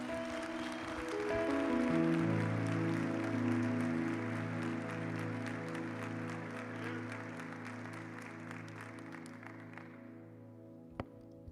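A church congregation claps along steadily, a dense patter of hand claps over sustained keyboard tones that slowly fade, ending with a couple of sharp isolated claps.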